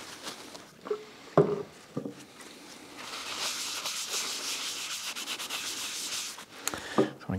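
Danish oil is rubbed by hand onto wooden end grain coasters, a soft continuous scrubbing and rubbing with a few light knocks, close and fairly quiet, with no voices.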